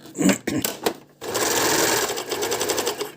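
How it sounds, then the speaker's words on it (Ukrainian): SilverCrest 90 A1 overlock sewing machine running at steady speed from about a second in, a dense close whirring stitch rhythm, preceded by a few short clicks and handling knocks. "Оверлок працює на педальку, реагує тільки як закрити кришку"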